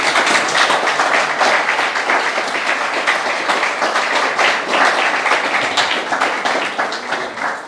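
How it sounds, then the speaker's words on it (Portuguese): Church congregation applauding together during a sermon, a loud sustained clapping that holds steady for several seconds before tapering slightly at the end. "Vocês podem dar uma salva de palmas para Jesus?"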